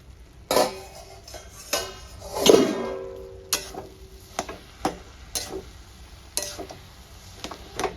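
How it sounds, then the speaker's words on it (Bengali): A metal lid is lifted off a pot of moong dal cooking with paneer and cabbage, giving several clanks and a ringing scrape up close, then scattered lighter taps and clinks against a quiet background. "এবার আমি ঢাকনাটা তুলে দেখে নেব।"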